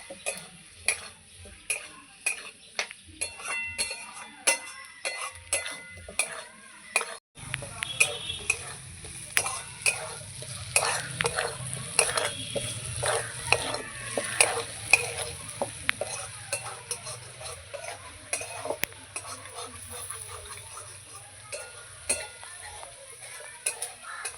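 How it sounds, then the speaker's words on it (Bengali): Spice masala for fish curry frying and being stirred in a pan, rhythmic scraping and clinking of a spoon over a continuous sizzle that grows louder partway through, close up. "আর একটু কষাবো মশলা যত কষানো হবে মাছের ঝোল খেতে তত ভালো হবে"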